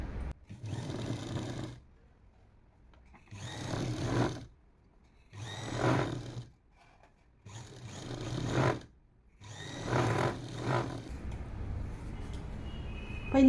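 A sewing machine stitches the sleeve seam of a ready-made top in four or five loud, close bursts of a few seconds each, with quiet pauses between runs.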